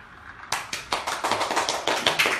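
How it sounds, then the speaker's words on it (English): A small group claps for a newly unboxed drone with propellers attached, brisk close hand claps starting after a short quiet moment and continuing steadily to the end. "and a little bit of applause"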